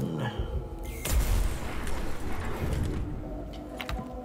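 A secondary cannon fires in Warhammer 40,000: Mechanicus on hard mode, a sudden heavy boom followed by rumbling blasts and crackling fire that fade over a few seconds.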